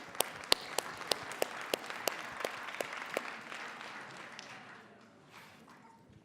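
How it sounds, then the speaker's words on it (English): Scattered applause from a small workshop audience at an innovation summit, a few distinct sharp claps standing out at first, then thinning into softer patter that fades near the end. "Okay, give yourself a round of applause."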